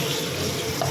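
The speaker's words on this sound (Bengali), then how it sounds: "এবার জল দিয়ে দেবো, একটু মাখা মাখাই হবে, অল্প জল দেবো" Water pours steadily into a pan of fried, spiced mixed vegetables including cauliflower and pointed gourd, a continuous close splashing rush with no pauses.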